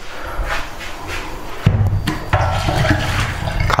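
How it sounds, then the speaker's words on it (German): Leftover hot water is poured away from a container, a splashing gush that starts with a thump partway through and keeps running steadily, with no talking. "Ist noch ein bisschen Wasser drin. Gießen wir mal gleich weg."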